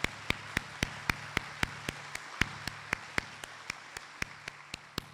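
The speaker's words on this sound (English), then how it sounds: "A round of applause." Sparse, faint clapping at an awards ceremony: single sharp claps spaced evenly about a quarter second apart, quiet and isolated rather than a full ovation.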